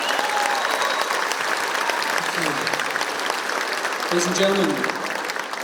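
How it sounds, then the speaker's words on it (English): Audience applause at the Boggeter Proms, a sustained wash of clapping from a large crowd throughout, with someone speaking over it into a microphone. "Big round of applause."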